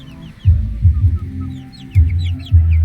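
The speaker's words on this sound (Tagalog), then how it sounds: "ito na mga idol ang aking mga sisiw" Jungle fowl hen with her chicks in a backyard, giving low soft clucks in short bursts close by while the chicks peep high and thin throughout.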